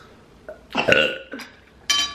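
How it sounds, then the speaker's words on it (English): A single loud, close burp rumbles for about a second, followed by shorter guttural bursts and a brief exhale. "Rate my burp."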